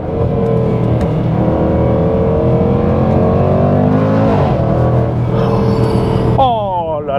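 Jaguar F-Pace SVR in sport mode, a loud, close engine roar building steadily as the car accelerates, with a gear change near the end and brief talk over it.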